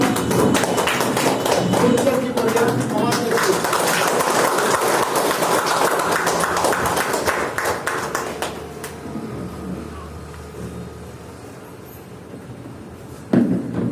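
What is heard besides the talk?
audience applauding loudly while standing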